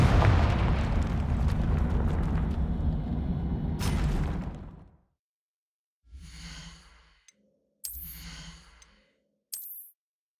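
The Confringo fire spell in Hogwarts Legacy sets off a long, roaring blast that rumbles for several seconds and then cuts out. A few shorter whooshing bursts of magic follow, separated by silence.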